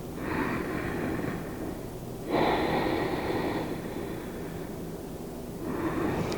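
Steady, throaty breathing through the nose, a soft rasping hiss with long inhales and exhales, close and continuous, with no talking.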